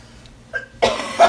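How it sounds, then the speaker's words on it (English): A single short cough sounds close to the microphone during kitchen preparations for Thanksgiving, a brief rough burst following a couple of faint breathy sounds. "I had to turn my head so I didn't cough on stuff"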